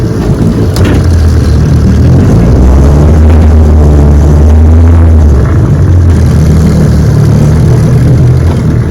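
A 1971 Johnson 9.5 HP outboard motor runs in reverse after gearcase repair, a loud steady drone that holds throughout with slight shifts in pitch and no speech.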